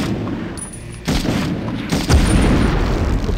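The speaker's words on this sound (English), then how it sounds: "Lucky bounce with that grenade there." A grenade blast in the 1999 PS1 WWII shooter Medal of Honor, a heavy boom followed by a rumbling roar that keeps building over a few seconds, loud and close.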